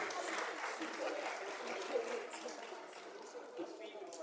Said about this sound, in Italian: facciamo ancora un applauso a questi bambini, bambine.